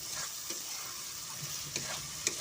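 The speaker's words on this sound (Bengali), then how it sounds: "গ্যাসটা লো ফ্লেমে রেখে আমি 10 মিনিট ধরে মশলাটা কষিয়ে নিলাম।" Spice masala for chicken kosha frying in oil on a low flame: a steady, gentle sizzle with occasional soft scrapes and clicks of a spoon stirring the pan, with no voices.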